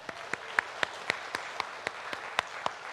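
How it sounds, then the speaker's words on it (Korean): Church congregation clapping in unison during a Sunday Easter worship service, a steady rhythmic series of about eleven sharp claps, fairly quiet and somewhat distant, with no talk over it. "우리 모두가 마음을 다하여 영광의 박수서 올려드리겠습니다"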